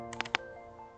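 A few soft, close keystrokes tap on a computer keyboard while configuring BGP on a router, a brief cluster of clicks and then quiet.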